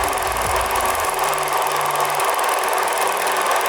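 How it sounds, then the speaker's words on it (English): An 8mm film projector motor running up close, a steady loud whirring drone with a faint mechanical chatter, a lower hum dropping away after the first couple of seconds. "So you start the motor and you're going to want to hit this knob to get the motor to jumpstart"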